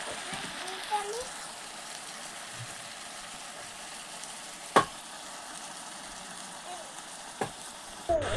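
Tomato, green chili and ridge gourd frying in a pan give a soft, steady sizzle, with a few faint clicks and one sharp knock partway through.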